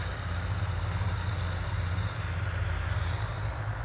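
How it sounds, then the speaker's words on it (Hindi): Tractors driving over standing crops in fields at Babera village in Bansur, a steady low engine drone with rhythmic chugging, close and continuous without talk. "ये देखिए किस तरह से दंदनाते हुए ट्रैक्टर खड़ी फसलों के ऊपर इस समय चल रहे हैं"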